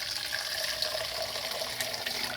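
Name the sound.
water running from tap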